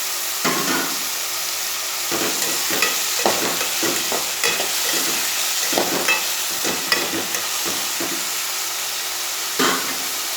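Chopped tomatoes fry in a pan for an egg thokku, a continuous close sizzle broken by repeated scraping and clattering strokes of a spoon stirring them.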